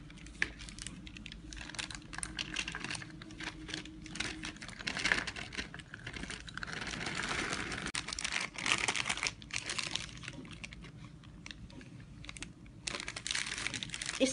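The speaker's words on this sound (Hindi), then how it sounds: "इसलिए आप छोटे छोटे पॉलीथीन में इसको पैक कर लीजिएगा। तो मैं आपको पॉलिथीन में करके दिखा रही हूँ।" Thin polythene bags crinkle and rustle steadily while green peas are packed into small portions for the freezer, with dense, close handling noise and occasional sharper crackles and no talking.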